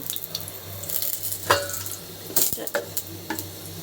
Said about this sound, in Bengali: কড়াইতে আমি দিয়ে দিয়েছি এলাচ, দারচিনি, লবঙ্গ, আর তারপরে দিয়ে দিচ্ছি তেজপাতা।